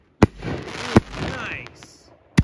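Tank Buster firework shells burst in sharp, loud booms, one near the start, another a second later and a third at the end, with crackling and whistling effects trailing between them while people talk.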